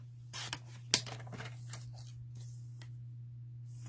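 Paper cardstock being trimmed during a stamping craft session, a few quiet, short cutting and rubbing strokes spaced over a few seconds, then near silence.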